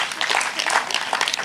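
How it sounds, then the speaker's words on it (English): A short burst of audience applause at a youth agriculture symposium, moderately loud dense clapping from a seated crowd. "So if we could give Unit Trust Corporation a round of applause."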